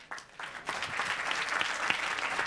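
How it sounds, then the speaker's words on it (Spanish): Applause from an audience at a pastry demonstration session, starting sparse and quickly swelling into a full, even burst of clapping. "Un aplaudiment, sisplau."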